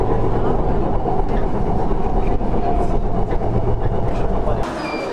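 A metro subway train carries riders toward Seoul, a steady loud rumble with rail clatter filling the whole stretch, easing slightly near the end.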